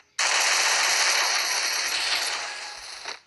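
Rapid gunfire from the Free Fire video game rattles out as one continuous, loud burst for about three seconds, then cuts off abruptly with a short trailing snap.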